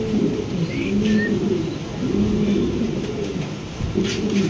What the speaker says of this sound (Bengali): এখানে আছে আরেক জোড়া মুন্ডিয়ান কবুতর